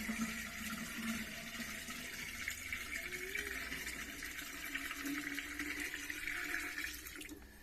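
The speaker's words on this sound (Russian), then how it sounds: "Набрали в колодці воды и доливаємо." Well water pours steadily into a container, a continuous splashing rush with a faint trickling tone that holds throughout and tapers off at the end.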